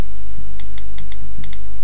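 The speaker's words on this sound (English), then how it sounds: "I will type the traditional way, like this." Taps on an iPhone 3G 16GB touchscreen keyboard, a run of about eight light, quick clicks at an uneven rhythm, close to the mic over a steady low hum, with no talking.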